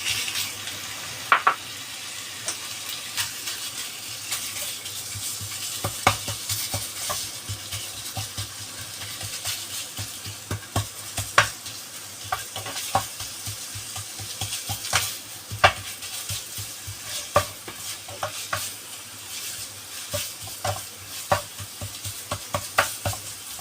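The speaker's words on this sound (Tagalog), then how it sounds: "Gigisa lang po natin yung sibuyas. Pagkatapos, itong minced pork." Onion and minced pork sauté in a pan with a steady, moderate sizzle, punctuated by frequent spatula scrapes and clicks as the mixture is stirred.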